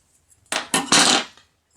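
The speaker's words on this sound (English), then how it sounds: "cut the yarn" Scissors snipping crochet yarn, a few close, quick cutting and clicking sounds in quick succession, then silence.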